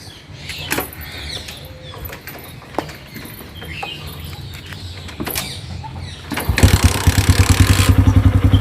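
Clicks and scrapes of a kick lever, then a motorcycle engine catches and settles into a loud, steady, rhythmic idle up close.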